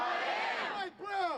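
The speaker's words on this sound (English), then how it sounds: "the crowd chanted with their fists high in the air" A diverse crowd at a street demonstration for minority rights chanting in unison, voices rising and falling in a short rhythmic phrase, with a brief dip before the next chant.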